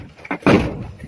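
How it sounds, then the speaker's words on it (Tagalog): A wooden door on a small hand-built hut is pushed open, a couple of knocks followed by a louder, close creaking swing that fades out. "Ito po yung pinto natin ba, buksan po natin."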